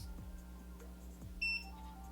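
A Cura Sky LED nail lamp, used to cure foil gel, gives one short, high electronic beep midway through an otherwise quiet stretch of low room hum.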